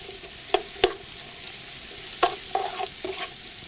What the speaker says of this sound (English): garlic and oil in here. Just gonna saute them a little bit, right?